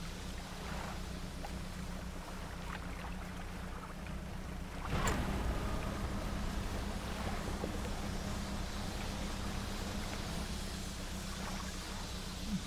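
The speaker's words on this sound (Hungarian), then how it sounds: "Baromi gyorsan közlekedünk." Boat engine in the video game Dredge, pushed in a boost mode that overheats the vessel, gives a steady low rumble with water rushing past, swelling louder partway through and running on continuously with no speech.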